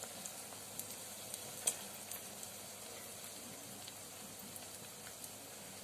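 Sliced onions sautéing in a pan for fish curry give a faint, steady hiss of frying with a few soft clicks and stirring taps, no voices.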